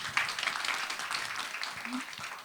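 Conference audience applause welcoming a keynote speaker at a brain trainer wellness event, a steady wash of many hands clapping at moderate distance that continues evenly throughout.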